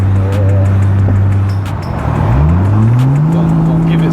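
A worn Nissan Skyline R32 engine revs up hard and loud, its pitch climbing in a rising sweep, with faint voices talking briefly in the background.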